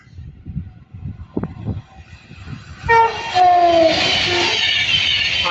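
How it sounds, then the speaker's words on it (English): A Class 390 Pendolino electric train passes at Bletchley on the West Coast Main Line: a rising rumble builds to a loud, steady roar with a prolonged two-tone horn blast, nearby and continuous, with no voices. "Another 390 Pendolino."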